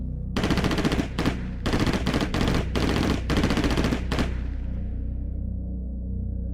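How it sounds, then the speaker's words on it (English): Loud bursts of rapid automatic gunfire rattle in several volleys, then stop, leaving a fading echo that trails off into near silence. "when the gunfire echoed from the other side of the road"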